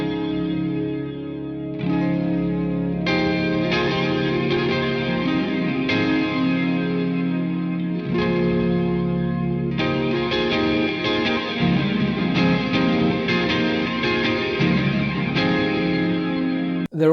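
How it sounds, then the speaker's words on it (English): Sustained guitar chords through a Digitech Supernatural ambient reverb pedal swell into a lush, shimmering wash of reverb, with bright octave-up tones hanging over each change, continuous and fairly loud. "This pedal was the first time that shimmer reverb was available in something that wasn't essentially a studio plugin."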